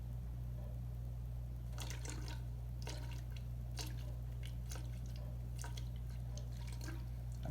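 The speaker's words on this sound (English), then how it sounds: "I'm going to pour more." Liquid is poured into a layered density column, giving scattered wet drips and splashes over a steady low electrical hum.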